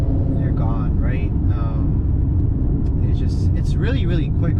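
A 2020 Mercedes-Benz C43 AMG sedan in Sport Plus mode drives with a steady, loud low engine and road rumble heard from inside, while someone talks over it.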